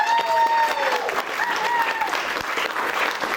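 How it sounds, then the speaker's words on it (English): Wedding guests applauding the bride during the speeches at a reception, a dense burst of crowd clapping with a few voices and cheers mixed in throughout the short stretch. "let's give her a round of applause for single-handedly planning this full wedding"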